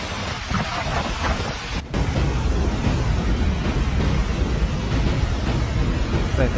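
Heavy rain pours down in a thunderstorm, a dense, constant hiss and roar with deep rumbling underneath, loud and continuous apart from a brief dip near the start, with no voices.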